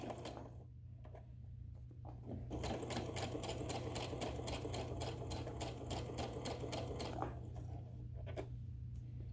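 A sewing machine stitches a 5/8 inch seam on a tote bag, a fast even mechanical patter running for several seconds after a few short starts, over a steady low motor hum.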